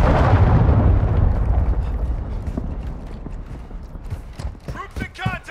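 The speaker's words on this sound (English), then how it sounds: "Friendly cruise missile approaching target." A cruise missile explosion in Call of Duty MW2 opens with a loud, heavy boom whose rumble slowly fades over several seconds, and a voice cuts in briefly near the end.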